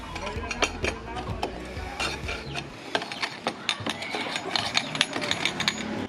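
Metal fittings of an Apido power pipe on a Mio Sporty motorcycle are tightened with a ratcheting tool, giving close, rapid clicks and clanks in uneven bursts.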